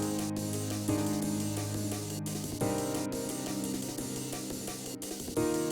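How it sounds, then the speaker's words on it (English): Drum and bass music from a space-themed short film score plays steadily at moderate level, with sustained tonal layers and shifting chords over a rhythmic beat, and no voices. "you can hear the drum and bass in the background"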